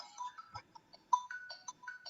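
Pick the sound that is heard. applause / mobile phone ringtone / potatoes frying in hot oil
mobile phone ringtone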